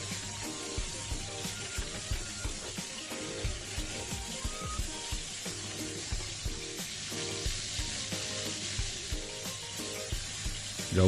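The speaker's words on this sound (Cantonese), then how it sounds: "中慢火去煎佢，唔好太猛火喎。" A chicken steak for teriyaki pan-fries over medium-low heat with a continuous close sizzle. Small crackles and pops run through it for about eleven seconds.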